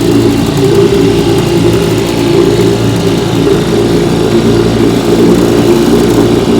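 A restored Evinrude Model 3706C outboard motor running steadily on a bayou test run, a loud, constant close engine drone with no speech.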